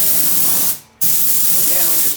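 A paint spray gun hisses loudly and steadily as it coats a set of drawers with Dixie Belle paint. It stops for a brief moment and then resumes the same dense, close hiss.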